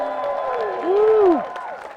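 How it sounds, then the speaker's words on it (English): A fan convention panel crowd applauds Amy Jo Johnson, with a burst of clapping and a loud rising whoop from someone nearby partway through. "let's especially clap extra loud for the one and only Amy Jo Johnson"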